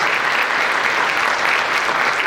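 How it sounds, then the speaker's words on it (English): Audience at a school spelling bee applauding a contestant, a dense, even round of clapping from a crowded room that holds steady for the whole stretch with no voices. "Let's give contestant 5 a round of applause here."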